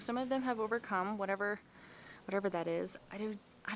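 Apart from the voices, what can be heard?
No distinct noise like a dog, phone or traffic.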